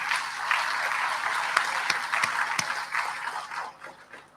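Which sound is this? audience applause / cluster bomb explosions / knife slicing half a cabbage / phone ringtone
audience applause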